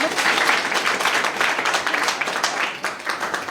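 Loud, steady applause from an audience of students at an education event fills the room for a few seconds, with no talking over it.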